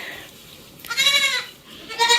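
A goat bleats loudly and close by, a single wavering call in the middle followed by the start of another, standing out against quiet farmyard background.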